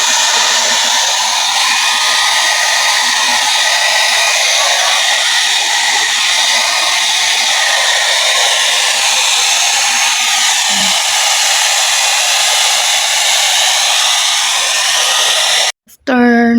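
A pet blower drying three-month-old puppies roars steadily at close range for a long stretch, a constant high whooshing hum, cutting off abruptly near the end.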